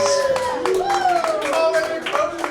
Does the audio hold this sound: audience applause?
yes